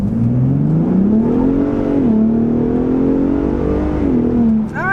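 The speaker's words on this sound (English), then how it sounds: "I put the exhaust up into its Baja mode, which says off-road use only, and let's see just how loud it is." Exhaust of a 2021 Ford F-150 Raptor set to its loud off-road Baja mode, revving hard with a rising, sustained engine note that dips and climbs again, close and loud throughout with no talking.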